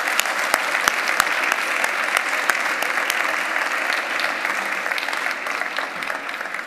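A hall audience at a literary event breaks into steady applause, a dense wash of clapping with a few sharper claps standing out, sustained and fairly close throughout.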